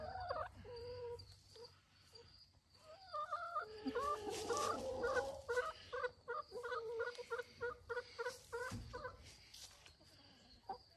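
Backyard chickens cluck and chatter close by, building into a busy burst of overlapping squawks before settling into a steady run of rhythmic clucks, fairly quiet overall.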